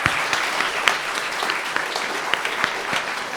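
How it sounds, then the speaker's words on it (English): Sustained applause from a concert audience at a festival performance, dense continuous clapping with scattered sharper claps throughout, fairly loud and steady. "So please, a round of applause to all of our family and friends."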